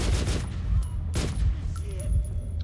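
Gunfire from incendiary rounds in the video game Metro 2033 Redux, a few sharp loud shots in quick bursts with short gaps between them.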